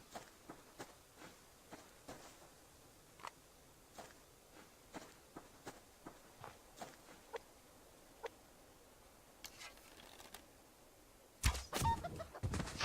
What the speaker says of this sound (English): chicken's death sound took me a little bit by surprise there